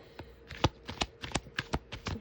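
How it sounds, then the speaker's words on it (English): Soft, rapid papery clicks and flutters of cards being shuffled, quiet and close, in a steady rhythm. "finish shuffling the cards and see what else I can pull out"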